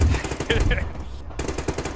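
Gunfire in a video game shooter: a short burst of loud, rapid shots up front, then scattered sharper cracks near the end over a dense busy background.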